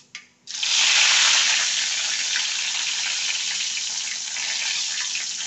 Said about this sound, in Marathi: आपली मोहरी तडतडली